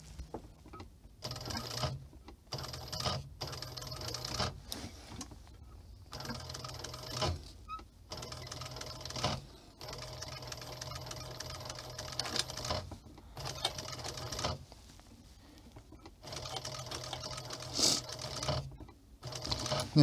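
Sewing machine stitching in a workshop: rhythmic mechanical clatter in repeated bursts separated by short pauses, fairly quiet and close, with no talk over it.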